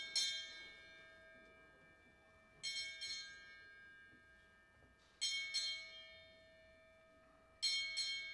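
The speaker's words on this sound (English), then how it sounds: "8 bells, please." A ship's bell rings eight bells at a Moby-Dick reading marathon: four paired double strikes, each with a clear ringing tone that decays between pairs, heard alone and fairly distant.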